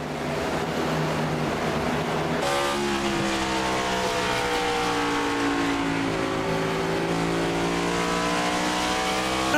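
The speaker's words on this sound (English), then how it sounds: "I want to hear these engines." Stock car engines roar continuously in a racing video game set at Bristol, a dense layered drone of many cars with shifting pitch harmonics, steady and loud throughout with a sharp jump in intensity early on.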